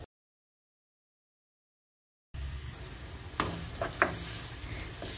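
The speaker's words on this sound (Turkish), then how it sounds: "Soğanımızı pembeleşinceye kadar kavuralım" Chopped onions sautéing in oil in a pot, two large onions for a cabbage roll dish, giving a steady soft sizzle with a few louder stirring scrapes after a stretch of silence.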